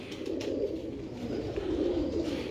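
A pigeon held in the hand coos softly and repeatedly close by, in low throaty rolling phrases over a quiet background.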